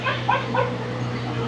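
Puppies in a kennel's puppy section give brief high whimpers and yips over a steady low hum, a short burst of small, close dog cries.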